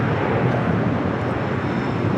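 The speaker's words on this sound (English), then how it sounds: "That Dreamliner pushing back from Terminal 7 is United Airlines Flight 39 heading to Tokyo Haneda, 787-10 Dreamliner." United Airlines 787-10 Dreamliner pushing back from Terminal 7 at LAX, a steady broadband jet rumble and whine holding level and fairly close throughout, with no pauses or voices.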